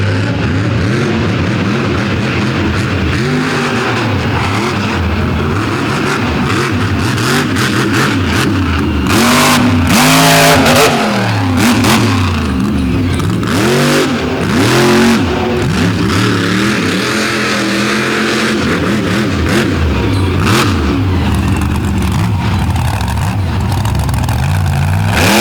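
Monster truck engine roaring and revving hard during an outlaw drag race at Canfield, Ohio, loud and sustained with rising and falling pitch sweeps throughout, close and overwhelming.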